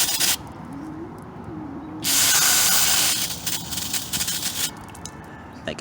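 An aerosol cleaner can sprays while cleaning a BMW VANOS solenoid and check valve, giving a steady hiss that surges to a loud full blast midway, then sputters and weakens as the can runs dry.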